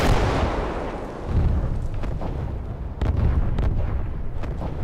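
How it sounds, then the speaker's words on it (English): Aircraft bombs pound an area in Call to Arms - Gates of Hell: Ostfront, heavy booming explosions rolling one after another with a continuous rumble and sharper distant cracks layered over it. "I'm going to call a bombing run on this area right away."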